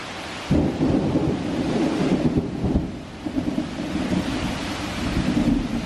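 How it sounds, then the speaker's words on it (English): A thunderstorm with steady rain, a rolling rumble of thunder and dense rainfall noise filling the whole stretch, fairly close with no talking. "yeah, storms are brewing."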